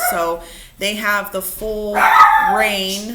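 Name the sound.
dogs barking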